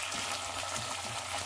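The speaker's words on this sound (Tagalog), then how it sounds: "Ginisa lang natin yung sibuyas at saka bawang sa butter" Onion, garlic and tuna sautéing in butter, a steady close crackling sizzle with fine hissing bubbles, continuous and even throughout.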